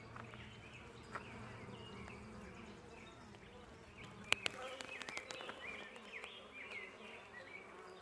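Honeybees hum in a steady, soft buzz around a hive frame of fresh comb during a brood inspection, close by, with a few sharp clicks and taps of handling partway through.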